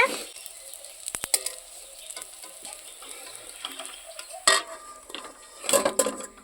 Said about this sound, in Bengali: দুই দিকে ভালো করে ভেজে নিব।